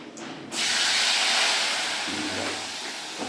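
Whole spices dropped into hot oil for tempering a winter chana matar curry, bursting into a loud, broad sizzle that starts abruptly and holds steady, with no talk over it.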